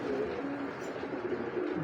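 Healthy imported racing pigeons coo in a low, droning, overlapping murmur, close and continuous against soft ambient noise.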